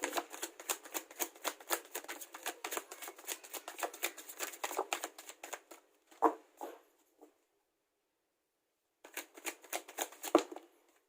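Tarot cards shuffled and drawn by hand for a reading, a dense run of crisp riffling flicks and slaps up close, then a pause before a few more card slides and taps, with no talking.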